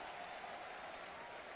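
Baseball crowd applauding a pitch called a ball, distant and faint, a soft steady wash of clapping lasting about a second and a half.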